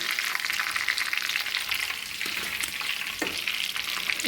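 Rava-coated Mangalore sardines fry in hot oil with a steady, dense sizzle that runs without a break, close and fairly loud. A few brief scraping clicks sound near the end.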